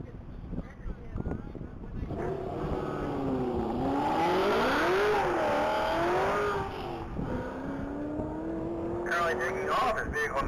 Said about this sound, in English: Currently taking off is vehicle 98